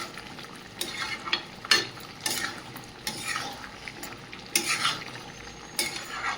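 Poultry meat sizzles in a pan as it is stir-fried dry with little gravy, the sizzle broken by repeated scraping strokes of a spatula against the metal at an uneven rhythm, close and moderately quiet.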